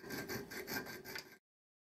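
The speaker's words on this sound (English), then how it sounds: "And then file by hand." A hand file rasps across a metal tube to cut a slot, several quick rhythmic strokes close up, then abrupt silence.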